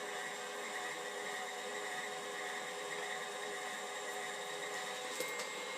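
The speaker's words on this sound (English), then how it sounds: "go ahead and put it in the mixer" An electric kitchen mixer whirs steadily while mixing an egg, a constant, even, fairly faint motor drone that holds without a break from start to finish.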